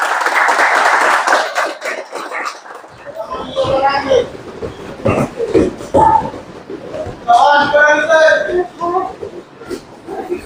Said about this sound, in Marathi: सर्वांनी आपण टाळ्या वाजवून त्यांचं स्वागत करतो